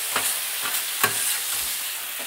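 Fish stuffing hissing in a pan after red wine goes in, a steady quiet sizzle broken by a few soft stirring clacks, close and with no talking.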